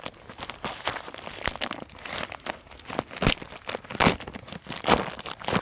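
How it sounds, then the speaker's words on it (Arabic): A 23-25 kg, 90-100 litre plastic sack of moist peat moss being opened: close, loud crinkling and tearing bursts of plastic that come in irregular bunches throughout, with no voices. "نبدأ نفتح الشكارة"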